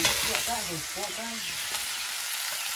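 Food frying and being stirred in a pan, a steady close sizzle and hiss, briefly overlapped by a voice near the start.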